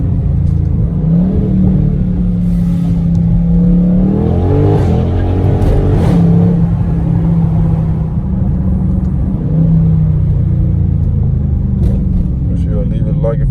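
A 392 Scat Pack widebody revs and accelerates, its deep engine rumble rising and falling in pitch through a couple of surges, heard from inside the car with people talking over it.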